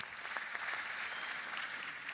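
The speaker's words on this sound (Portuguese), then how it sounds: "Uma salva de palmas." Steady applause from a crowd, a continuous wash of clapping that holds evenly throughout.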